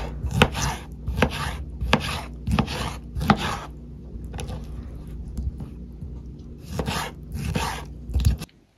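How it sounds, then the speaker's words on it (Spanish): Knife chopping pineapple into small cubes on a board, crisp close rhythmic cuts in quick clusters, a brief pause, then more chopping. "La piña esta la voy a partir en cuadritos."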